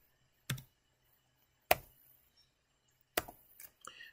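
Three isolated sharp keystrokes on a computer keyboard, spaced over a second apart, close and crisp in a quiet room, the last followed by a few softer clicks.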